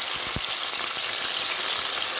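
Washed prawns fry in hot oil in a pan with no added water, giving a steady close sizzle with a few sharp pops and crackles early on.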